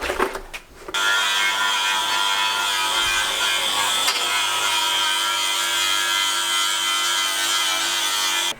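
A die grinder works on red oxidized rust on an engine part, holding a loud, steady high-pitched whine that runs unbroken for several seconds at close range after a short start.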